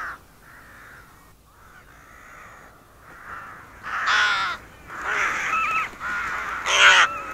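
A gathering flock of crows caws on a free-range pig farm, with harsh calls building from moderate to loud and overlapping near the end.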